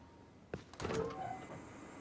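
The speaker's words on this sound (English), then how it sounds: "So you heard the timer click on." In the Rust video game, an electrical timer clicks on with a sharp click followed by a mechanical clunk and brief whirring, faint and close.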